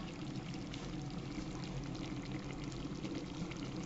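Hot water from a kettle pours into a Hungarian mutton goulash on the stove, giving a faint, steady, continuous stream of pouring and simmering with no break.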